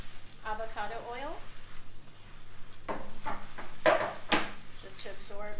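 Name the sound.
spring onion pancake frying in avocado oil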